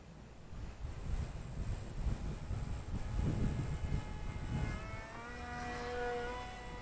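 A small FPV aircraft with a BetaFPV 2004 3000kv brushless motor flies outdoors, its motor whine rising into steady high-pitched tones over heavy wind rumble, fairly loud and close.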